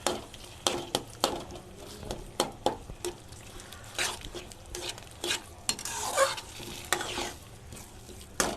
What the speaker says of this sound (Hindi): और हम 4 अंडे डालेंगे। इसे अच्छे से मिक्स कीजिए।